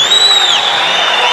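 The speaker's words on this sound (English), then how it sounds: "As the crowd roars" Loud roaring crowd at a mixed martial arts fight in the M-1 Challenge arena, a dense sustained wash of cheering and whistles filling the space without a break.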